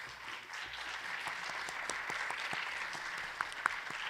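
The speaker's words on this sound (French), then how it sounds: "on va applaudir une dernière fois" An audience at a panel on global economic injustice applauds, a steady, even wash of many hands clapping with a few sharper claps standing out near the end.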